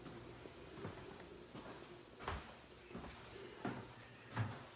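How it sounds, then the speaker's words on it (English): Dorm room drawers at Lamar University are opened and shut, giving a series of soft wooden knocks and slides spaced about a second apart, quiet and close. "It's my first time even looking at these, so these drawers."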